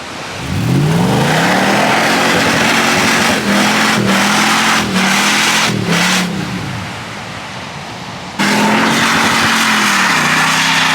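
A car stuck on a sandy South Australian beach track revs its engine hard again and again. The loud revs rise and fall several times, ease off briefly, then surge back close by.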